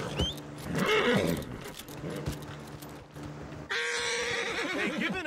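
In a Western-style video game, a horse neighs and whinnies near and clearly, with hoofbeats and game ambience around it, ending in a brighter burst of sound.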